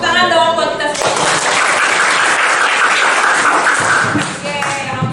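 A classroom of students claps loudly together, a dense burst of applause that starts abruptly and fills several seconds before tapering off, with a voice heard briefly before and after.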